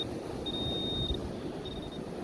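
A Garrett metal detector sweeping a UK beach with discrimination set at 60 gives a thin, high electronic tone in two separate stretches. A steady low rush of wind and surf runs underneath.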